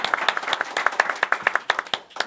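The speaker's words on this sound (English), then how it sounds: "A round of applause for that." An audience at a local community talk show in El Monte gives a short round of applause, with crisp, uneven claps close by that thin out and fade over about two seconds.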